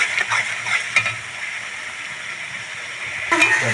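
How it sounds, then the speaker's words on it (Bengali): Spice masala with sugar being sautéed in a pan for a vegetarian paneer dish, a soft constant sizzle with a few light stirring scrapes near the start and a louder scrape near the end. "মশলাটা আমি খুব ভালো করে কষিয়ে নেব।"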